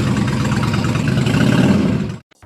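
A Husqvarna Nuda 900 inline twin motorcycle engine runs with a loud, steady low rumble close by for about two seconds, then abruptly stops.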